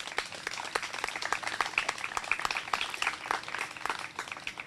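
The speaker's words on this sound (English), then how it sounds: "Give them all a round of applause" A dense round of clapping greets St. Paul Police Department staff and Chief Tom Smith at a Junior Police Academy graduation. The clapping is moderately distant, fairly quiet and continuous.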